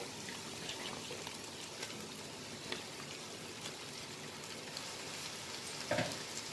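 Chicken leg pieces sizzle in a pan of golden-browned onions for Hyderabadi dum biryani, a steady close frying hiss with a few soft stirring clicks and one sharper scrape near the end, no talking.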